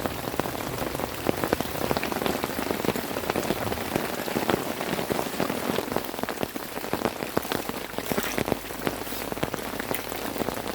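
Dense rain pounds steadily on surfaces in a forest patrol base at dawn after falling all night, a loud unbroken hiss with close drips and spatters and no talk.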